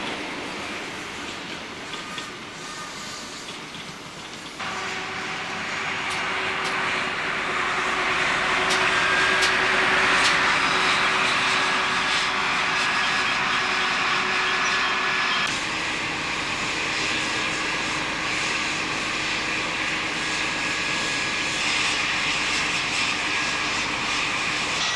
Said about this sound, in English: as a HST set pulls into platform 4